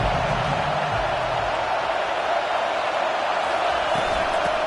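Stadium crowd roar at a college football video game matchup, TCU against Texas A&M, swelling on third down; a steady, dense wash of crowd noise fills the whole stretch, loud and continuous.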